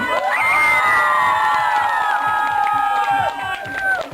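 A crowd at an outdoor DJ festival cheers and shouts loudly, with high whoops and children's voices throughout and a noisy, sustained roar that eases slightly toward the end.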